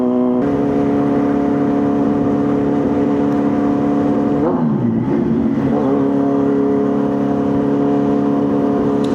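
A car engine on a road ride between Kolhapur and Belgaum, a loud, steady droning note that dips and surges in a brief rev near the middle before settling back to a constant hum.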